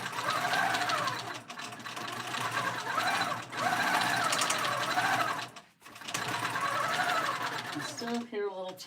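A quilting machine on a small frame stitches a quilted pillow top at five stitches per inch, running in loud bursts of rapid rhythmic needle tapping separated by short pauses, with a voice talking over it.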